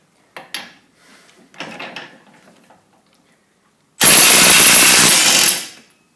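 A Makita DTW281Z cordless 1/2-inch impact wrench in its high-speed power mode fires one loud, harsh hammering burst of about a second and a half, after a few quieter clicks and clatters of handling.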